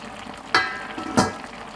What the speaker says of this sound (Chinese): 我们揭开锅盖看一下。